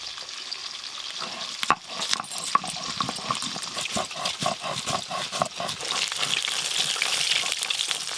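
Tari fish lightly frying in oil, a soft constant sizzle with rhythmic stirring and scraping sounds, one sharp knock near the start, close and moderately quiet.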